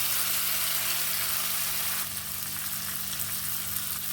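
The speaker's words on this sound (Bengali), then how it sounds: "এবার এই যে ভেজে রাখা চালটা এটা দিয়ে দিলাম" Pre-fried rice tipped into a pan of well-cooked spice mix for a vegetarian rice and banana-flower ghonto, giving a steady loud sizzle that eases slightly midway, with no talking.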